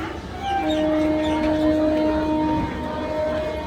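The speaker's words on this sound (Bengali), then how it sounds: "1:15 ট্রেন, শান্তিপুর লোকাল ঢুকছে" A Shantipur local train pulls into Dum Dum station, giving a steady, sustained horn-like tone over the continuous rumble of the arriving train, loud and close throughout.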